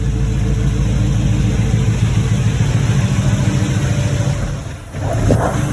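A small-block Chevy V8 swapped into a Volvo idles steadily with a deep, loping rumble, close and loud throughout, briefly dipping near the end before picking back up.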